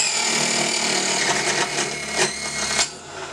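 Mini table saw crosscutting a wood strip guided by the mitre gauge, a loud continuous whining buzz of the blade biting through the wood before dropping away at the end.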